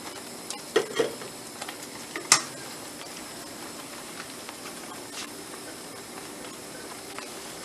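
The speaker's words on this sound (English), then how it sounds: "I'm just giving a little bit of a stir." A toffee sugar mixture is stirred in a pot. A few sharp spoon clinks come early, with a faint hiss and soft scraping continuing quietly throughout.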